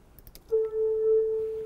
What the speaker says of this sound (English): I think it's a preset in Serum called Bottle Blower,